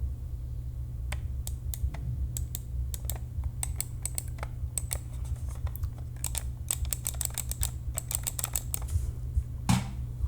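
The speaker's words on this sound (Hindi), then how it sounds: "मैं इस माउस को यहाँ पर पहले जो मेरा पुराना वाला माउस है मैं उससे क्लिक करके बताता हूँ आपको।" An old computer mouse clicking, quick light clicks in irregular bursts, some rapid and closely spaced, close up against a steady low background hum.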